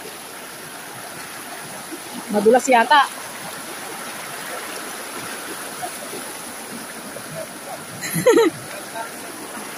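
Water rushes steadily in a constant broadband hiss from a flowing stream near Canding Falls, San Clemente, with two brief bursts of nearby talk over it.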